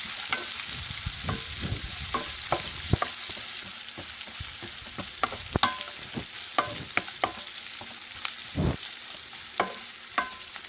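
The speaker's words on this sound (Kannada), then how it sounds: "ಈಗ ಇದನ್ನು ಮತ್ತೆ ನಾನು ಚೆನ್ನಾಗಿ ಫ್ರೈ ಮಾಡ್ಕೊತಾ ಇದ್ದೀನಿ" Lemon rice ingredients fry in a pan under a continuous sizzle, with a spoon scraping and tapping against the pan in irregular bursts, close up and without speech.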